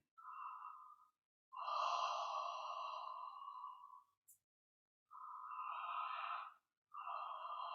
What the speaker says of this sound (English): You open your mouth and you yawn